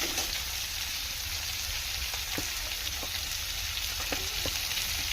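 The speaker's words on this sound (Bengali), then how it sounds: "রসুনটা ভালো করে ভেজে নিলাম। এবার দিয়ে দেব সিদ্ধ করে রাখা আলুটা। আলুটা দিয়ে এবার ভালো করে কষাবো।" Boiled potatoes frying with garlic in a pan give a steady, close sizzle throughout, with a few faint scrapes and clicks of stirring over the hiss.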